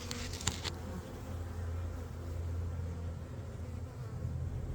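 A swarm of honey bees in an apiary makes a dense, steady buzzing drone that fills the whole stretch. A brief faint tick comes near the start.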